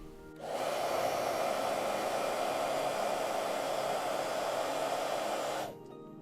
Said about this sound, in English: so I'm just going to apply heat to it, and then it'll shrink.